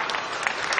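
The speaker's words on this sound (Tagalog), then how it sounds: "palakpak natin sila." Classroom students applauding their classmates, a short, moderately loud burst of mixed hand claps.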